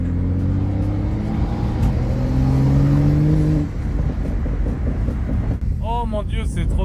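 A BMW 335i, tuned to about 500 hp, drones steadily while driving, with a few sharp exhaust pops breaking through the engine and wind noise. A voice briefly surfaces near the end.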